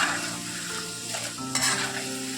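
Raw-potato French fries coated in rice flour frying in hot oil, a dense continuous sizzle close by with stirring scrapes and one brief louder crackle near the end.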